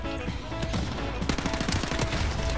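Gunfire in Call of Duty: Modern Warfare Remastered, with rapid automatic bursts from rifles like the M16 and M4 rattling in a dense fusillade, loud and continuous across the moment.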